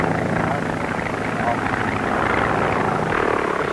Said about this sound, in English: The single circular wing allows a quick takeoff, and it can go 135 miles an hour.